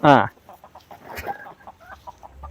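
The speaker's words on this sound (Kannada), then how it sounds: "ಇದು ಹುಂಜ ನೋಡ್ರಿ" Country chickens and a rooster on a farm run in an areca plantation, with a loud close squawk, then a string of soft, rhythmic clucks continuing throughout.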